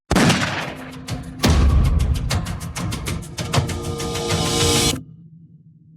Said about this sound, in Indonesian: Tembakan hari ini adalah peringatan.